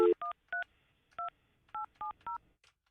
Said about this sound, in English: Let me see if I can get her on the phone.